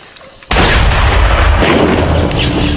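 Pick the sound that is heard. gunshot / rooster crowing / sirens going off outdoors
gunshot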